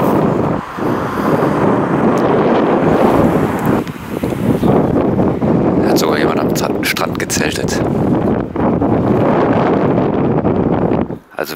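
Strong wind on a coastal bike ride between Scharbeutz and Travemünde buffets the microphone in a constant roar, with a person briefly speaking over the gusty rumble.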